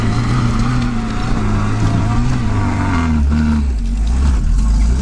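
Lada Niva 4x4 engine revving hard while climbing a mountain slope off-road in low gear, a loud close strained drone whose pitch rises and falls as the revs shift.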